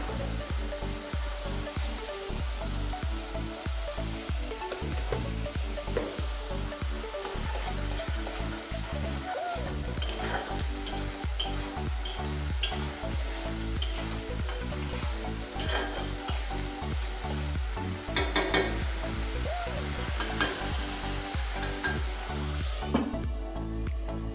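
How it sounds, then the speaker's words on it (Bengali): Onions fry steadily in a pan for Bengali-style Kolkata rohu fish biryani, a continuous sizzle broken by repeated scraping stirs and clatter, close and even throughout with no talking. "আমাদের পেঁয়াজটা ভাজা ভাজা হয়ে এসছে।"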